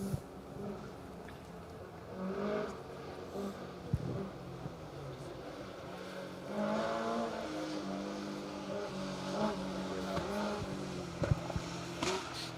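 A historic rally car on a forest rally stage, its engine revving and rising and falling as it approaches through the trees, heard moderately from a distance with brief crackles and a faint voice.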